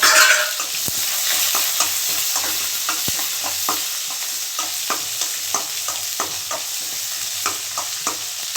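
Chilli, garlic, onion and tomato sauté in hot oil for ridge gourd chutney, a continuous sizzling hiss broken by regular sharp clicks of a spatula stirring against the pan.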